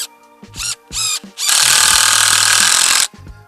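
A power drill whirs in short bursts, then runs steadily for over a second as a screw drives into a wooden board, loud and close, with brief clicks around it.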